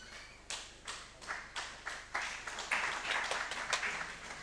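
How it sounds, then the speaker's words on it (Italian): Audience applause at an Italian city council meeting, a few scattered claps that swell into steady clapping from a small crowd, moderately loud, no talking. "è bello sempre sentire gli applausi"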